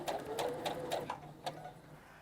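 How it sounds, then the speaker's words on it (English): Sewing machine slowly stitching along a drawn line on fabric for a grocery tote, a quiet, close run of about seven rhythmic needle pulses that slows and stops. "we're just going to slowly stitch right on that line that I drew"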